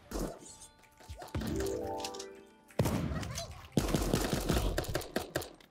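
SMG fire in the cartoon battle-royale game Super Animal Royale: sudden close shots strike, then a quick rattling run of rapid rounds follows, mixed with clattering impacts.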